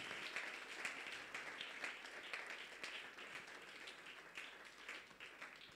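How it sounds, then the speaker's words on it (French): An audience in Marrakech applauds to welcome newcomers at a gathering, steady dense clapping that stays fairly faint throughout. "Est-ce qu'on peut acclamer? Soyez le bienvenu."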